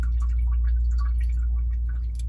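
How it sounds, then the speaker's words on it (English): Water drains into the wastewater tank of a portable hot and cold sink, heard close as scattered drips and trickling splashes over a steady low hum. "you can hear it draining into the wastewater."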